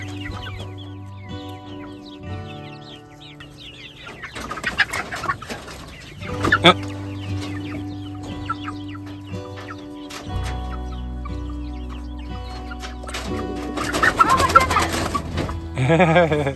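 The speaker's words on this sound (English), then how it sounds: "we have 15 chicks, now kind of middle-aged chickens" Fifteen young, half-grown chickens cluck and chatter continuously close by in an aviary, with bursts of louder squawking and a person speaking briefly in between.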